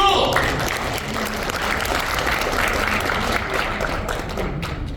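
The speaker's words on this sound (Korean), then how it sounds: "박수!" Applause rises from the audience at a talk concert held with young people. It is a dense, steady burst of clapping that carries on for several seconds and fades a little toward the end.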